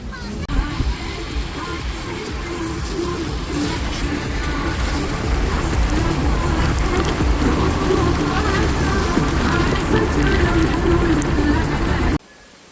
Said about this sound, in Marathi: किती जोराचा पाऊस चालू आहे आमच्या घराकडे पण